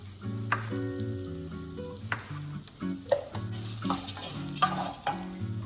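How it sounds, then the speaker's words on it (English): Conchas pasta shells and onions toasting in a pan for Mexican tomato soup, stirred with a utensil that gives a few scraping clicks over a steady soft sizzle, with background music running underneath. "you want to make sure that you're stirring your conchas and your onions every couple of minutes"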